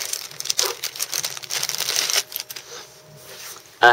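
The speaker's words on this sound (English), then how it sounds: "in it comes a little plastic bag" Close, busy crinkling of a thin plastic bag being handled while a Samsung Gravity phone is unboxed. The dense rustling runs for about two seconds, then thins to quieter handling noises.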